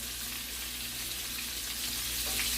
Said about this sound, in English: You want them to sear. Once you place them in there